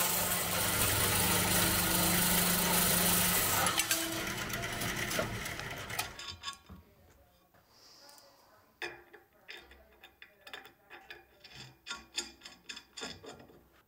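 A length of all-thread rod is cut in a workshop during a planer motor swap. A loud, dense cutting roar lasts about six seconds, then stops and gives way to scattered clanks and handling noises.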